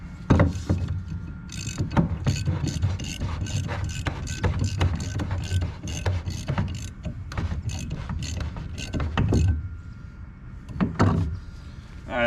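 A nut socket runs a nut down onto an edge fastener during a drive-on assembly, giving a long stretch of rapid, close mechanical ratcheting and whirring with brief pauses and no speech.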